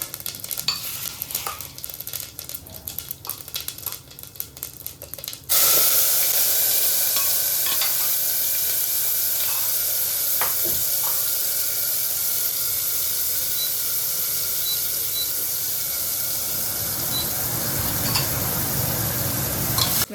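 Cumin seeds hitting hot oil in a pan, a sudden loud sizzle that stays steady and hissing for many seconds after a quieter start.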